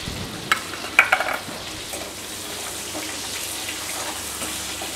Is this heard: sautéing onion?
yes